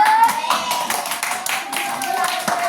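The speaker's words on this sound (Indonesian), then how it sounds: "Tepuk tangan dulu." Pupils in an Indonesian elementary classroom clap for a group called up to the front, brisk rhythmic clapping close by with voices mixed in.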